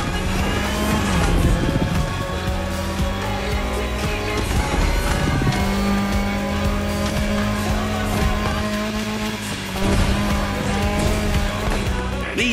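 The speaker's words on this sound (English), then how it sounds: "These little buggers skid on every turn" Offroad buggies in The Crew Motorfest: engines rev while tires squeal and skid repeatedly through the turns, loud and close, with the screeches rising and falling over the motor noise.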